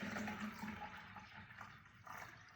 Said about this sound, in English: Got some water here to fill.